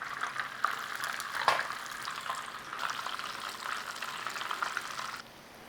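Potato cakes of mashed potato and a little flour sizzling in hot oil and butter in a pan, a steady crackling fry with a few louder spits, fairly quiet and close, the sizzle dropping away at the end.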